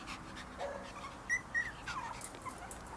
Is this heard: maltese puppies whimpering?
yes